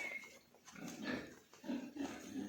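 Pigs on a farm, grunting in short, low, irregular bursts at moderate distance, with a few snorts and no talk.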